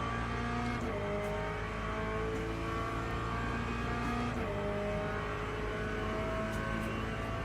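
Porsche race car in a racing video game accelerating hard, its engine note climbing steadily through gears with loud continuous roar, a shift break near one second and another near four and a half seconds.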